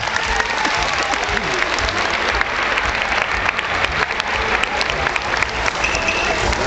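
A crowd claps loudly and continuously at a clown show, a dense steady wall of applause with faint voices mixed in beneath.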